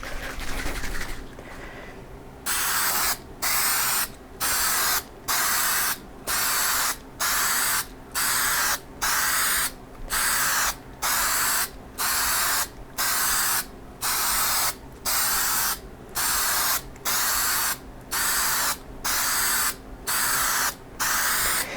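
An aerosol can sprays paint in a garage in short, regular bursts, about sixteen evenly spaced hisses with brief pauses between, close and fairly loud.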